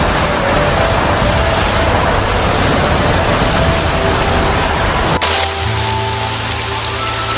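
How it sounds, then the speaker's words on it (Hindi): Heavy rain pours down on a village in a dense, loud, steady wash for about five seconds, then cuts off abruptly to a quieter backdrop with faint sustained tones. "वर्षा ऋतु का मौसम भी आ गया और गांव में जोरदार बारिश शुरू हो गई।"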